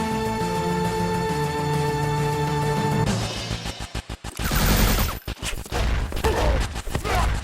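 A light sword attack by Cloud in the Final Fantasy VII ReImagined fan-made game demo: a rapid run of sharp, loud combat hits and clashes cuts over the steady game music, followed by dense bursts of battle effects.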